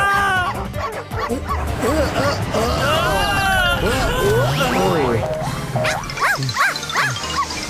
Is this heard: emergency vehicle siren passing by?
no